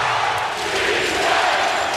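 A basketball arena crowd during a 2009 NBA playoff game between the Lakers and the Jazz sends up a dense, steady roar of reaction after a Trevor Ariza three-pointer, loud and enveloping, with no clear talk over it.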